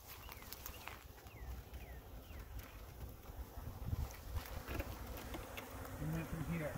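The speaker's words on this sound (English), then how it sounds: "now all the bees, you'll see, they can fly around" Bees from an opened hive buzz continuously all around at close range, a dense droning hum with individual insects passing by, a few faint bird calls in the background.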